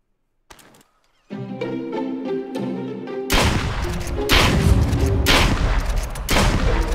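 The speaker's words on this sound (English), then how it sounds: "I shoot the pooch." Gunfire in the Duck Season video game as a dog is shot, heard as a rapid string of loud, heavy shots that starts after a quiet lead-in and a musical passage, repeating in bursts to the end.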